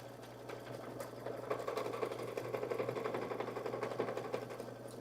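A sewing machine runs a triple stitch on appliqué, a faint, steady rapid mechanical chatter continuing throughout with a low hum underneath.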